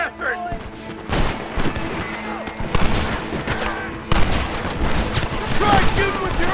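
Gunfight in the video game Red Dead Redemption, loud repeated gunshots and booming bursts firing irregularly throughout, with shouting voices in the mix.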